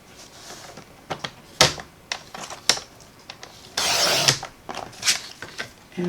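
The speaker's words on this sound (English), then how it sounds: "So we're going to turn it this way and cut it at" A paper trimmer blade slices cardstock for a card base, giving a brief rasping cut mixed with sharp clicks and taps from handling the trimmer, close and moderately loud, with no speech.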